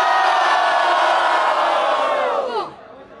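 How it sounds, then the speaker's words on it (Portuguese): A large crowd at a rap battle roars, cheers and shouts together in a loud sustained wave for over two seconds, then fades off sharply. "Barulho pra quem gostou das rimas de WM!"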